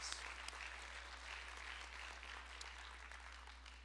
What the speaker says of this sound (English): let's a big round of applause for all of our new employees